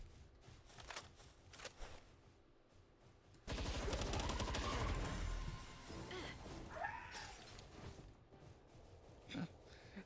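Rapid video-game gunfire from Palworld bursts out loud and dense midway, a sustained volley lasting a couple of seconds, with lighter game effects and clatter before and after.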